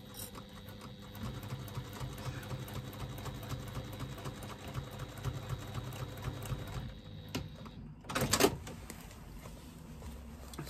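A sewing machine whirs steadily as it stitches around a lining, a close and even mechanical hum that cuts out near the end, followed by a brief clatter of handling.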